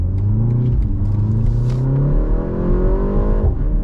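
A BMW M135 engine revs loudly, its pitch climbing steadily through the gears with a rising growl, close and continuous throughout.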